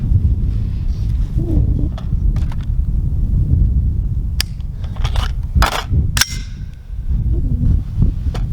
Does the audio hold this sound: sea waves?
no